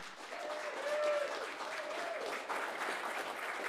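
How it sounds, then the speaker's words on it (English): Applause from the audience at a live radio show broadcast for a bluegrass act, a steady even clatter of clapping that fills the room at moderate volume, with faint cheering or a held voice-like tone drifting through. "let's give another big round of applause for our first act, Chris Long."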